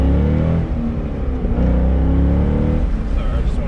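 A Corvette C6 Grand Sport accelerates hard, its engine a loud, deep continuous roar that holds steady and close from start to end, with a voice speaking faintly beneath.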